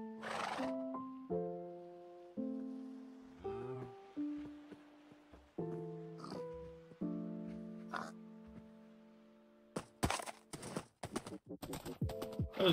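Minecraft horse neighs and whinnies repeatedly in clear, tonal bursts, with clip-clop hooves and a flurry of sharp clicks toward the end.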